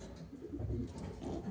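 Pigeons kept for sale, including sport-bred birds, give low, steady cooing that rolls on throughout, close and moderately loud.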